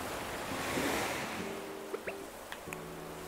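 Ocean waves wash continuously on a beach in Animal Crossing New Horizons, a soft, steady surf hiss with a few faint tonal blips over it.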